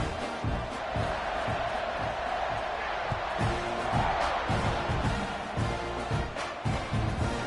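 A football stadium crowd roars with sustained, dense cheering and noise after a touchdown in an Ole Miss game, heard as a steady wall of sound with faint broadcast commentary and scattered thumps.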